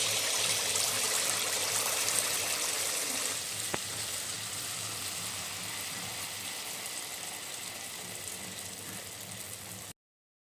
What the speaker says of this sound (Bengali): একই পদ্ধতিতে সবগুলো মালপোয়া পিঠা ভেজে নেব।